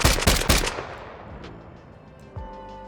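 A redesigned automatic gun sound effect fires in burst mode: a quick cluster of loud, sharp shots up front, then a long fading reverberant tail and a final softer hit.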